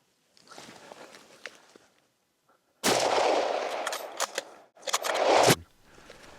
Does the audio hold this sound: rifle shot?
yes